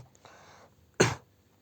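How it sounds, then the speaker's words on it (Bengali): One short, sharp cough from a person nearby, close and fairly loud, follows a faint breathy sound against near silence. "এই ঠান্ডার সময় একটু কাশি হবে।"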